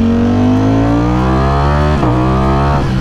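A Lamborghini Streetfighter motorcycle fitted with a titanium exhaust revs loudly and steadily close by, the engine note climbing smoothly for about two seconds before dipping and rising again, with no voices.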